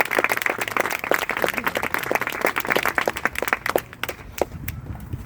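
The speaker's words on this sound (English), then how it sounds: "Give a round of applause to Anna and Matthew, please." An audience claps at an event, many hands producing a busy, crackling burst that holds steady for several seconds before thinning out and fading near the end.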